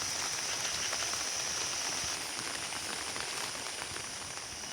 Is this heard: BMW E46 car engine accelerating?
no